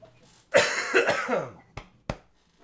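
A single harsh cough up close, followed by two short, sharper coughs spaced a moment apart, then quiet.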